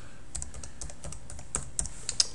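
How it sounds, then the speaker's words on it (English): Someone types an email address on a computer keyboard, producing a quick, uneven run of light key clicks close to the microphone, with a couple of sharper taps near the end. "We got to type in our email address."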